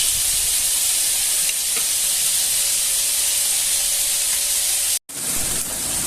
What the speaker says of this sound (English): so it's been frying for 5 minutes